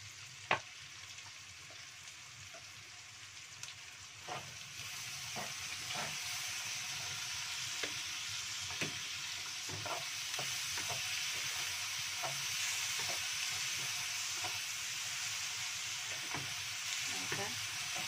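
Anchovies and petai stir-fry with sliced chilli and sweet soy sauce in a hot pan: a continuous loud sizzle with frequent sharp spatula scrapes and taps at an irregular rhythm.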